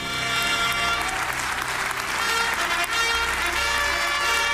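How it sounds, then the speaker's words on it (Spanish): Lawmakers in the Israeli Parliament give Donald Trump a standing ovation, a loud, continuous mass of clapping and cheering that fills the chamber with a low tonal rumble beneath it. "otra ovación en el Parlamento de Israel para Donald Trump."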